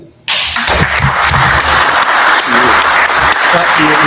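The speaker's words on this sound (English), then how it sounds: "I think you should all give yourself a clap for Richard." Workshop audience bursts into loud, close applause that starts suddenly and continues steadily, with voices and cheering mixed into the clapping.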